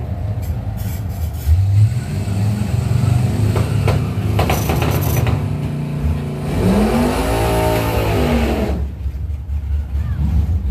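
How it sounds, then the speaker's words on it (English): Dodge Stealth and Corvette drag racing: loud engines roar and rev hard off the line, then a rising engine tone sweeps past as the cars pull away, with an announcer talking over it. "Dodge Stealth right side taking on the Corvette left side"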